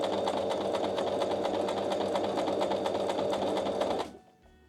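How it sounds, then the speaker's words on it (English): A sewing machine runs steadily at high speed, stitching through three layers of pocket lining and pants fabric, its rapid needle chatter constant and close before stopping abruptly near the end. "so now I'm going to sew my 3 layers together, my lining, pants, and this one."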